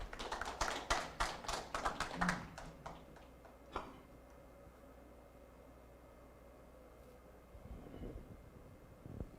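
An audience at a Korean lecture event claps to welcome a speaker to the stage, a burst of many hands in quick rhythm lasting a couple of seconds before fading into a quiet room.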